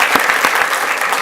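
A school board meeting audience applauds a girls' team, a brief burst of dense, close clapping from a crowd with a few sharper individual claps standing out.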